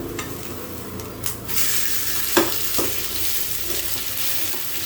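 A homemade Korean vegetable pancake sizzles steadily in a frying pan right after being flipped, a loud continuous hiss close up with a few soft knocks from the pan or spatula.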